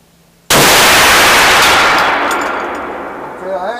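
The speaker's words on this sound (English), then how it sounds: "I'm going to try to hold dead center." A single deafening rifle shot of a Hornady 45 caliber 280 grain BoreDriver round cracks out at a long-range outdoor range, then rings and decays over several seconds, with a faint voice stirring at the end.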